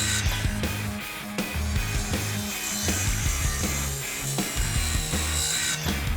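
Power saw cutting through a wooden 4x4 post for a privacy screen frame, a continuous loud grinding rasp of blade in timber with repeated bursts as the cut progresses, no talking.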